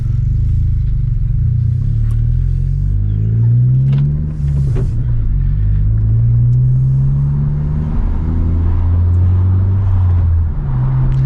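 A 2020 Honda Civic Si with a tune, heard from inside while driving: a loud, steady engine drone whose pitch rises and falls through the gears, with no talking.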